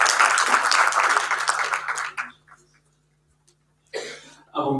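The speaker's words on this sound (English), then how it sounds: "A round of applause for" Audience applause at a leadership event honoring Mandela, a dense burst of clapping for about two seconds that fades to near silence, followed by a brief second flurry of claps toward the end.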